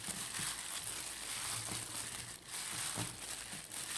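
A hand kneads minced pork with sticky rice flour, giving soft, continuous squishing and crinkling under a constant background hiss.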